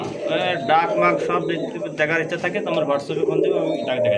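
Arabian white pigeons coo softly in the background at a pigeon market while people talk over them nearby.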